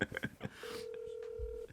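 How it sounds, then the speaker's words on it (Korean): Telephone dialing: a quick run of short keypad beeps, then one steady, sustained tone, fairly faint in a quiet room. "지금 전화하고 있습니다."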